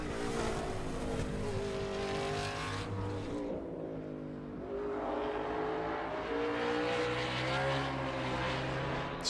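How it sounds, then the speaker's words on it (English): A race car in 2021 Verizon 200 road-course qualifying roars with its engine revving up and down as the tires spin and briefly squeal coming out of a corner, loud and close, mostly alone with faint commentary. "Spun the tires."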